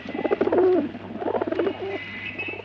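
Caged pigeons or doves with clipped wings coo in soft repeated throaty phrases close by, several calls in a row over a faint steady hum.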